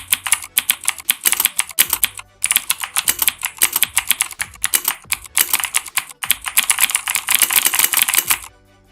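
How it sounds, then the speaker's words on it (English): Rapid typing on a mechanical keyboard fitted with Cherry MX Blue switches and PBT keycaps, loud and close, with sharp clicky keystrokes in fast bursts and a few short pauses between runs. "this is Cherry Mix Blues with PBT"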